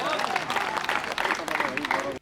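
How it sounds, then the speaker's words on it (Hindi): At a Hindi kavi sammelan poetry gathering, an audience claps for a poet being called to the stage. The brief burst of dense applause is mixed with talking voices. "जोरदार तालियां।"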